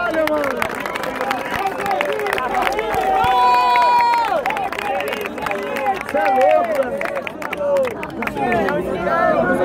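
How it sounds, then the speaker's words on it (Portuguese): A crowd at the grand final of a rap battle cheers and shouts, with some clapping mixed in, while excited voices overlap loudly throughout. "palmas pra essa batalha"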